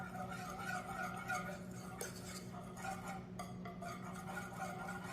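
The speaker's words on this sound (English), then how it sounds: "I'm whisking that together until it's kind of smooth" Peanut butter mixture being whisked in a bowl, with soft continuous stirring and faint clinks of a utensil against the bowl, quiet and close, with no talking.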